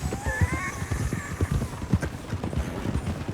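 Horse hooves clip-clop in a steady rhythm in Red Dead Redemption 2, close and clear, with a brief whinny early on and faint game ambience behind.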